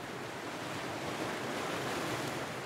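Waves break on a stormy Atlantic beach in a steady, loud roar of surf, mixed with wind buffeting the microphone, with no voices.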